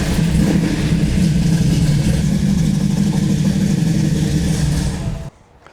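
A Nissan 240SX with a turbo engine that has sat unused for years runs loud and steady close by, a rough throbbing rumble held for about five seconds before it cuts off abruptly into near silence.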